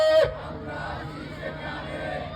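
A crowd at a Bengali Islamic mahfil gathering roars back a chant of Allahu Akbar in response to a takbir call, a massed shout that rises sharply and then holds as a broad sustained cry.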